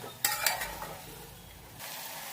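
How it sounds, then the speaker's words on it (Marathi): A handful of peanuts fries in hot oil while being stirred, with sharp clattering scrapes of a spoon against the pan early on over a constant close sizzle that swells again toward the end. "आता आपण हे मूठभर शेंगदाणे घेतले ते पण त्यामध्ये टाकून घेऊया आणि ते पण आपण छान परतून घेऊया तेलामध्ये"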